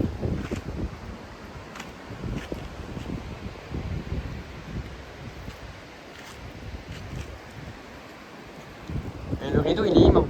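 Strong gusting wind during a severe thunderstorm in Corrèze, France, roaring steadily with rustling leaves and rising toward the end, heard up close with microphone buffeting and voices talking over it.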